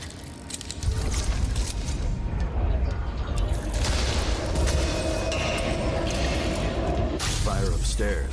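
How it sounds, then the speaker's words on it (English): A heavy chandelier being hoisted in a dark detective video game, a grinding mechanical rumble with creaking and clanking that runs steadily for several seconds before ending in a brief burst. "Maybe I can lift the chandelier."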